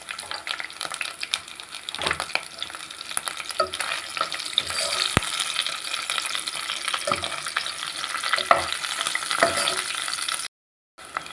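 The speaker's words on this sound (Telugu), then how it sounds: "ఇట్లా మనం దోరలుగా వేపుకోవాలి. పచ్చిమిర్చి వేసుకోవాలి మనం ఇప్పుడు." Green chillies frying in a pan for vegetable semiya pulao, a continuous close sizzle with scraping stirs and a few sharp knocks, ending in a brief drop to silence.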